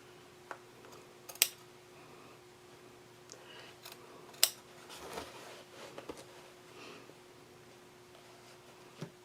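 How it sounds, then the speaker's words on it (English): Scissors trim excess denim from around a seam on upcycled jeans, with sparse, quiet snips and clicks scattered over a low, steady hum. "I'm just going to go maybe about 1/4 of an inch away from the seam line there, and I'm going to trim all the way around"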